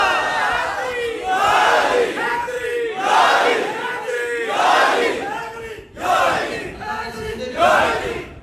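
A large congregation at a Friday sermon chants Subhan Allah in response to a preacher, loud voices rising together in repeated surging waves, roughly one swell every second or so across the whole stretch.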